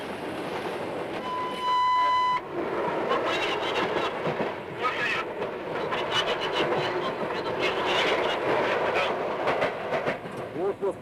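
Trans-Siberian passenger train running on rails, a steady broadband rumble and rattle with a brief tonal beep near the start, continuous throughout with faint background voices.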